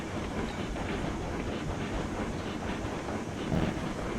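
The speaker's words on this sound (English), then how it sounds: "locomotive and train moving" A locomotive pulling a train in the railway game Railroads Online rolls along with a steady rumble and faint rhythmic clatter. It is moderately quiet and even throughout, with no talking.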